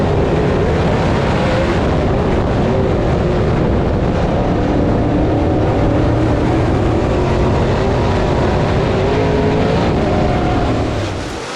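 Race cars at Swainsboro Raceway come off turn 3 amid heavy lap traffic, a continuous, loud, dense roar of several engines.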